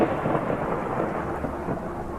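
Deafening thunderclap rolling through a night storm, a dense, sustained low rumble with steady rain noise filling the short span, loud and close with no voices.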